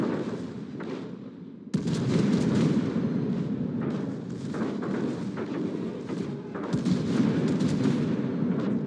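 An enemy battleship is destroyed in a naval battle video game, heard as heavy, rumbling artillery blasts and booming explosions that swell after a sudden loud hit and keep going without letting up.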